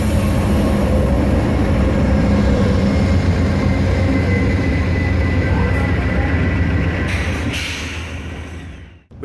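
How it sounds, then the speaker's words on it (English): Amtrak train pulling into Flagstaff station, a loud, continuous low rumble and rolling drone that holds steady before tapering off near the end. "the train arrived at the Flagstaff station"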